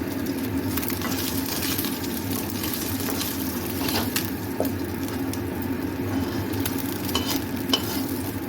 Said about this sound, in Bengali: এভাবে করে আমি বাকিগুলো ভেজে নেব